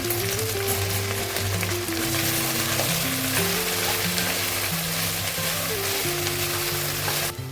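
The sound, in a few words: okra frying in a pan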